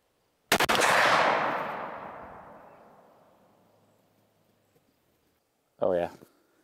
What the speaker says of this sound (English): The next round I'm gonna shoot is this Hornady SST shotgun slug.